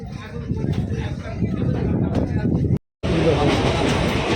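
Inside a moving local passenger train on the Canning line, a steady low rumble and rattle of the carriage with a brief cut in the middle, people talking over it.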